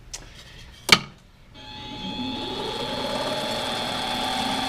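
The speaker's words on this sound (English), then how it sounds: "now I can turn it around in the lathe, and I have a way to turn it the other way so that I can round this off" After a couple of sharp clicks, a lathe spins up into a steady, whirring hum with a bright tonal edge while a brass finial is rounded off near the chuck.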